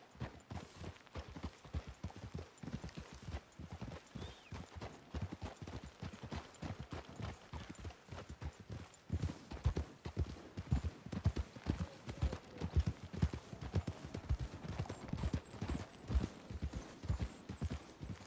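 Horse hooves clip-clop steadily in Red Dead Redemption 2, a continuous run of close, even hoofbeats across the whole stretch, growing a little louder toward the end, with no talk over them.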